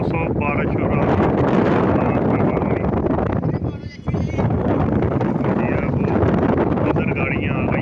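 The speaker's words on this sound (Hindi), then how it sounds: "बारिश और आंधी बहुत तेज है" A fierce wind and rainstorm sweeps over an open-air car auction ground, a steady loud gusting roar that briefly dips and then returns, with muffled voices mixed in.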